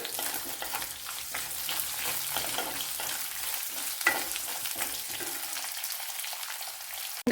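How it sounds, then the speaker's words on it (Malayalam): Garlic, ginger and green chillies, with cardamom, sizzle steadily in a hot pan, giving a dense continuous crackle with occasional stirring scrapes throughout. "ഒരു അഞ്ചാറ് വെളുത്തുള്ളി ചെറിയ പീസ് ഇഞ്ചി രണ്ട് പച്ചമുളക് ഇത്രയും കൂടെ ഒന്ന് മൂപ്പിച്ചെടുക്കണം"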